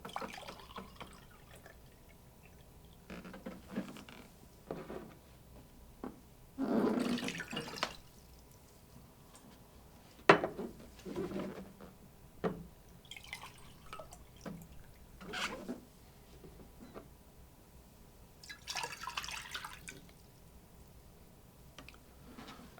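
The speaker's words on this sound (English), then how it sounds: "In the first bowl, we put some distilled water." Distilled water is poured into a bowl, giving intermittent splashing and trickling bursts with pauses between them, fairly close and moderately quiet.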